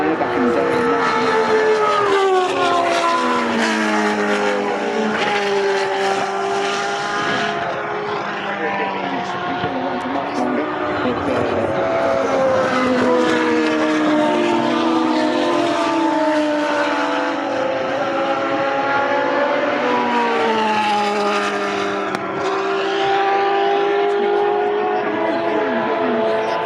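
Formula One race cars at the Goodwood demonstration run past in overlapping waves, high-pitched engines rising and falling as they sweep by, loud and continuous, with a commentator talking throughout.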